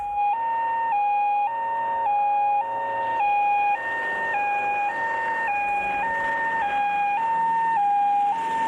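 A loud two-tone ambulance siren alternates high and low pitches in a steady, repeating wail, with faint road rumble beneath.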